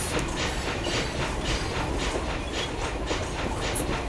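A simulated Shay steam locomotive in the game Trains And Railroads runs steadily, with a fast, even chuffing and clattering rhythm over a constant rumbling rail noise, loud and close, with no talk.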